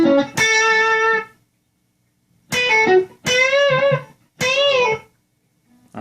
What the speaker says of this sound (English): so that's just a lick in A.